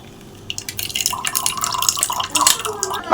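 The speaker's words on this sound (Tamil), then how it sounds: "இதை அப்படியே வடிகட்டிடலாம்" Ground vallarai keerai (pennywort greens) juice being strained, with liquid trickling and dripping steadily into a vessel close by, growing a little louder toward the end.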